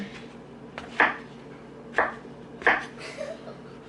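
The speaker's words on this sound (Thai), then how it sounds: "เดี๋ยวหั่นเห็ดกันจ้า" Mushrooms are sliced with a knife at a home kitchen counter, giving four soft, crisp chops spaced about a second apart, quiet and close against a faint room hum.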